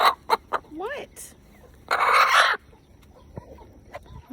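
Chickens clucking and squawking in short bursts close by, with a brief rising call and a loud flurry of noise midway, on a farm where roosters are being tamed; faint voice in the background.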